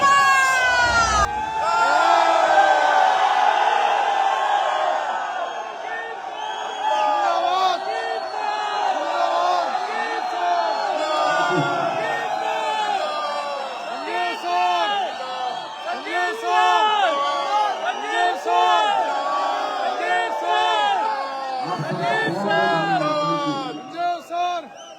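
A large indoor stadium crowd at a corporate gathering in Talkatora Stadium roars, whoops and cheers loudly and continuously, with an amplified voice calling out over the din throughout.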